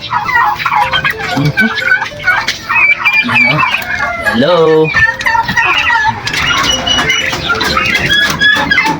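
A crowd of turkey poults and poultry clucking and cheeping nonstop, calls overlapping near and loud, with a brief spoken greeting partway through.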